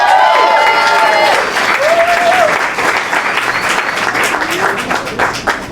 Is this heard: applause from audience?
yes